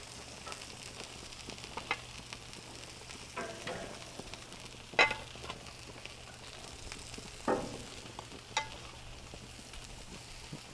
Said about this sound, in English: I want to get my eggplant on. And try to get it so I can get some grill marks on there.